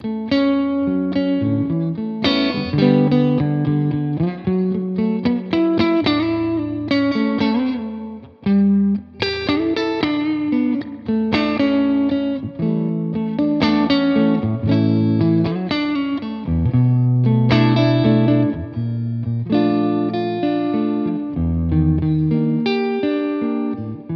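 An electric guitar plays through a Tone King Imperial preamp with the reverb set to low dwell and a high mix. Chords and single notes ring out loud and steady with a short, subtle reverb tail, with no talking.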